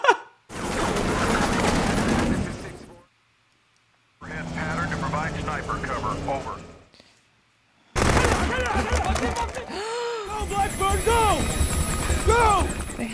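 Film battle scene from Black Hawk Down with bursts of gunfire and helicopter noise, loud and dense in three segments separated by short silences, mixed with music and movie dialogue.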